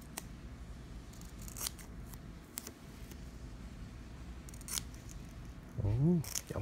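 Scissors cutting a velcro strip for mounting a radio receiver: several crisp, separate snips spaced a second or two apart, fairly quiet, with a brief voice near the end.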